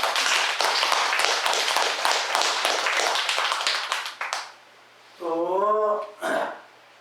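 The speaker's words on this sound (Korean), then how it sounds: "박수 한번 보내주십시오" Audience members at a Buddhist Saturday dharma service give a round of applause, dense clapping for about four seconds that then fades, followed by a brief voiced sound and a short noisy burst.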